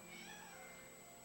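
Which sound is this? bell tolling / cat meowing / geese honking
cat meowing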